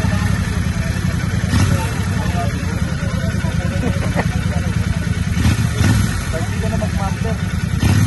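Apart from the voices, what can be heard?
650 motorcycle engine and throttle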